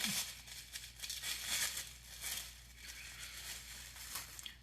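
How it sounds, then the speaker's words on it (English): Rested pasta dough being unwrapped from its wrapping, giving a soft, steady crinkling and rustling of plastic that runs close and continuous with small rises and dips, with no voices. "now that your dough's rested for about half an hour, you're going to unwrap it"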